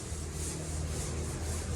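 Faint, steady scraping of a sanding block rubbed by hand across a car body panel during body repair, a continuous soft abrasive hiss with no speech.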